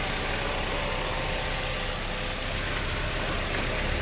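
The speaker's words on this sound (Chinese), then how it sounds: "引擎是这样的稳定，我们来看一下，用打火机来看一下它的稳定性吧" A Mercedes W123 230E petrol engine idles steadily after fuel distributor repair, a continuous even mechanical hum and whir heard close up with no talking.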